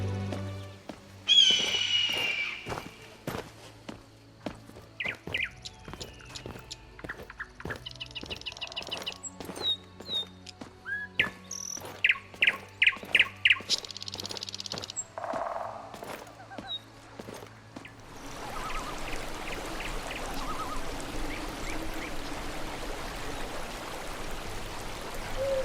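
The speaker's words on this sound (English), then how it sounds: "here's a quick preview of the ambient sounds you'll hear with this mod installed" Ambient birdsong from a modded Skyrim game world: varied chirps, tweets and trilled calls from several birds over a flowing-stream bed, with occasional hoof clops, shifting to a denser, steady outdoor wash with faint distant calls in the final stretch.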